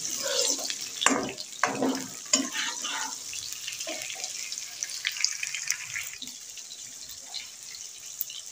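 Onions and very ripe red tomatoes frying in a pan for kadhi pakora, a steady close sizzle with soft stirring scrapes and wet bubbling throughout.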